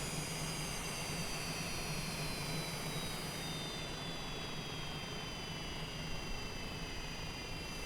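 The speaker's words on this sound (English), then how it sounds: "I can go outside and listen to those engines spool down." Cessna Longitude jet engines spool down in Microsoft Flight Simulator, a steady loud turbine roar with high whining tones slowly gliding downward in pitch, heard alone without talk.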